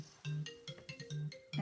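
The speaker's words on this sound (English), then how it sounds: "that's my phone, just we're going to have to ignore that" A phone rings in short repeated melodic bursts, a bright electronic ringtone sounding over a quiet painting session where forsythia is being painted.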